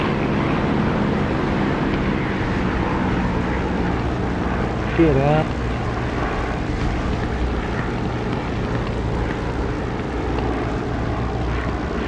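A jet engine roars steadily with the canopy open in a DCS flight simulator cockpit, a loud constant wash of engine noise throughout, with a brief chirping tone partway through and a voice speaking briefly over it.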